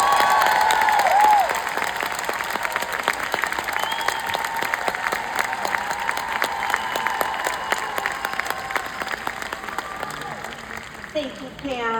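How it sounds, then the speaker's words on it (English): An audience applauds steadily for several seconds, a dense wash of clapping that stays strong throughout, while a voice speaks over it. "Let's give her one more round of applause"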